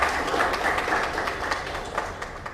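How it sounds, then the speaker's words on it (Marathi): An audience at a book event with actress and poet Prajakta Mali claps, a thin, scattered patter of individual hand claps with irregular sharp beats, moderately loud and fading slightly toward the end. "त्यासाठी सगळ्यांनी एकदा टाळ्या वाजवाव्यात."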